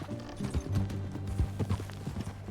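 Horse hooves clip-clopping in Red Dead Redemption 2, a quiet irregular patter of hoofbeats over low game ambience and a soft background hum.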